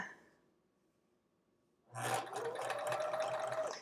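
A sewing machine runs in a steady, close burst, stitching a straight scant quarter-inch seam on a quilt block after a quiet pause.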